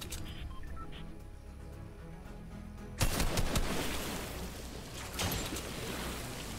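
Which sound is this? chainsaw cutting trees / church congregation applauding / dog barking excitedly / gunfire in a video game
gunfire in a video game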